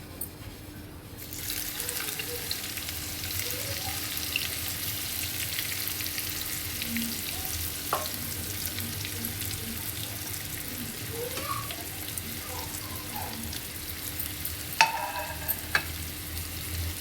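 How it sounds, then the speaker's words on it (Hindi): Sliced onions sizzle and crackle in hot oil over a high flame, a steady close frying hiss with occasional stirring clinks and scrapes, no talking. "तो ऑयल हमारा गर्म हो चुका है। जो हमने ये प्याज के स्लाइस बना के रखे थे, इसको इसमें ऐड कर लेंगे।"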